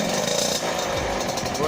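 A motorcycle engine revs higher while a newly fitted cooling fan spins up faster, giving a loud, dense, steady whirring roar with a low rumble swelling midway.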